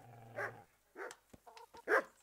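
A dog in the video game Kingdom Come: Deliverance barks several times, two strong barks with a few shorter yips between them, close and distinct against a quiet background.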